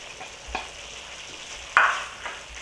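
Green seasoning and garlic sizzle as they go into a pot of Trinidadian curry, a soft steady fry broken by a few scraping stirs and one louder splash of sizzle partway through.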